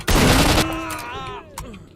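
A sharp, loud gunshot blast in a video game rings out, then decays with a metallic ringing tail, followed by a fainter second crack.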